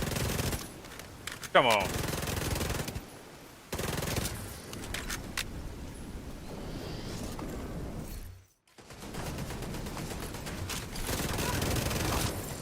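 Turret gunfire in the video game SCUM: rapid automatic bursts of shots come in several separate volleys, with a short gap of silence in the middle, and a voice speaks briefly over the shooting.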